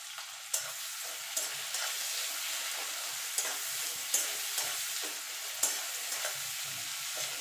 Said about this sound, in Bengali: এবার পেঁয়াজটা দিয়ে দেবো পেঁয়াজটা একটু সোনালি কালার করে ভেজে নেবো